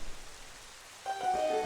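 Steady rain patters in the video game Twilight Princess, a soft continuous hiss that is joined partway through by bright, chiming game tones.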